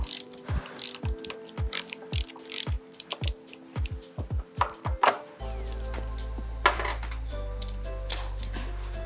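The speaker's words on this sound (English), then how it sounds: "I'm going to use a 6mm Allen on the caliper mounting bolts" A 6mm Allen key works the caliper mounting bolts on a Suzuki SG400 front wheel, giving a series of sharp ratcheting clicks, then a steadier mechanical hum with occasional clicks.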